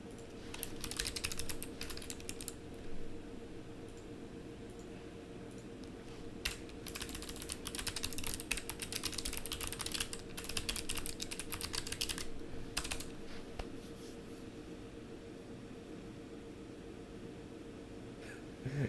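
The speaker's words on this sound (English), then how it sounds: "maybe let me type this out" Fingers type on a computer keyboard in a steady, close run of clicking keystrokes for about nineteen seconds, with short pauses between bursts and no talking.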